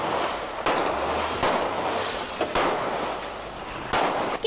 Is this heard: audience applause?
no